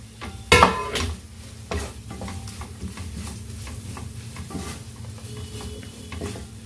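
Onions, chillies and mint sautéing in a pan for vada curry, with a sharp utensil knock at the start, then steady stirring scrapes and a soft sizzle beneath.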